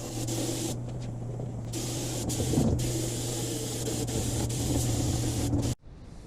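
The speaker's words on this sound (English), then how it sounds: "clean it with brake cleaner and blow it out with air" Brake cleaner sprays in a steady, loud, continuous hiss as it is blasted into a car differential on a Nissan 350Z, running for several seconds before it cuts off abruptly.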